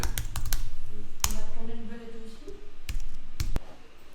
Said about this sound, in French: je vais taper belette